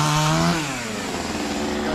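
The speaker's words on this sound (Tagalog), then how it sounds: "Kine-chainsaw na." A chainsaw revs loudly up close, its pitch dropping as it bites into wood and keeps cutting steadily.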